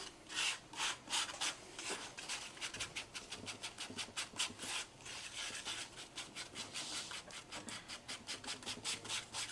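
Gritty acrylic paste is worked with a palette knife, giving close, steady rhythmic scraping and rubbing strokes that repeat quickly throughout, with no voices.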